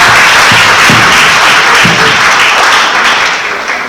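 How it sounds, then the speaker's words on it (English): An audience at a Liberian maritime launch event gives a loud, sustained round of applause, dense clapping that carries on throughout and tapers slightly at the end. "Let's give her another round of applause, please."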